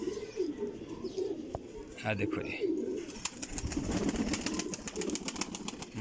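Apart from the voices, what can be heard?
pigeons cooing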